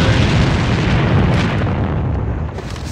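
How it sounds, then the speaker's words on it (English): A grenade explosion in the shooter game AVA booms loudly and close, then its broad rumble fades over three seconds with no talk. "I got a nade out. Fire in the hole!"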